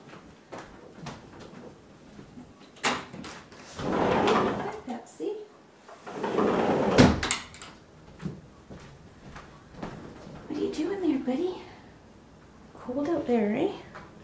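An indoor door is opened to let a cat in, giving a cluster of clicks, a rattle and a soft thud, followed by quieter rustling and faint vocal sounds.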